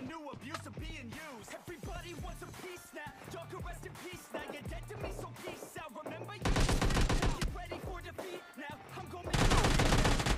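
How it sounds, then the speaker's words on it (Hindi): Automatic AKM fire in the mobile battle-royale game PUBG Mobile Lite, rapid bursts over game sounds and speech-like tones, growing louder and denser in two heavy stretches near the end. "तभी मुझे पीछे से फायरिंग की आवाज़ आती है, जो कि एक बंदा AKM चला रहा था, वो भी ऑटो पर।"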